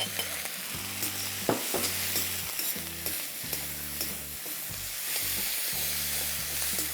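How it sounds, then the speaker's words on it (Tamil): Crushed turkey berries sauté in sesame oil in a kadai with a steady, close sizzle and frying hiss, alongside rhythmic low thuds of stirring or pounding throughout. "நல்லெண்ணெயில் சுண்டக்காவை இடித்து வதக்கணும்."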